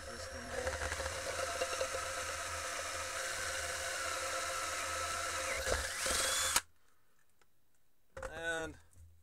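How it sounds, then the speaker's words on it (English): A handheld power drill boring a hole for a DIY articulating magnetic webcam base, whirring steadily and close for several seconds before cutting off, then a brief second burst. "Gotta drill a hole"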